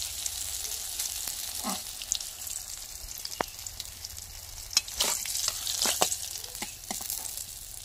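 Fish frying in mustard-style oil in a home kitchen pan, a steady close sizzle running throughout with occasional sharper pops and spatters, no talking.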